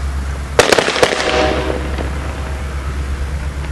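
Ceremonial rifle volley at an outdoor Veterans' Day ceremony in 2010: several sharp near-simultaneous gunshot cracks in quick succession, loud and close, echoing away over a steady low hum.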